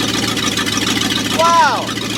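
A Ford 302 V8 in a chopped Econoline van idles with a newly fitted four-barrel carburetor, giving a steady, even mid-pitched hum close by. A brief voice-like sound rises over it near the end.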